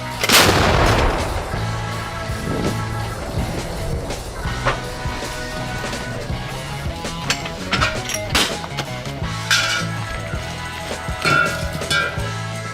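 A loud artillery shot booms at the start and echoes away, then more sharp reports and metallic clatter follow over a continuous rumble.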